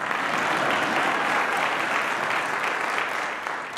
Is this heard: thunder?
no